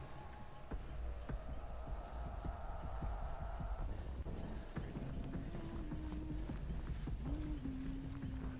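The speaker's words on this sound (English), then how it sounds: "you can really hear the humming around this area" A low, steady humming drones in the Dead by Daylight video game, faint and continuous under soft thumping footsteps, with a sustained tone sliding in and out near the end.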